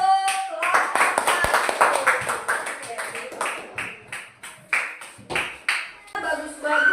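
A classroom audience claps for a class in rhythmic, separate hand claps, fairly close and moderately loud. The claps come in uneven groups over several seconds.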